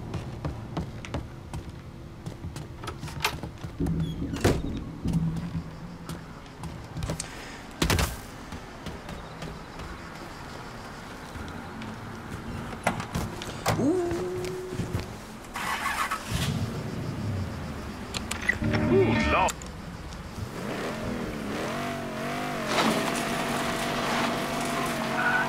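Car driving in the video game Mafia III, a mid-pitched engine droning steadily with occasional revs and scattered taps and thumps across the scene, heard alone without talk.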